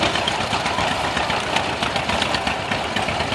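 A McCormick Super 8 tractor engine runs at a steady, even chug, loud and close, with no pauses.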